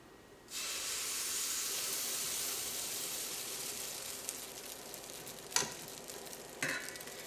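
Palappam batter poured into a hot pan over lowered heat bursts into a loud steady hiss that holds throughout, with a couple of brief knocks from the pan, no talking.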